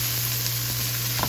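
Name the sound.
vegetables and onions sautéing in a pan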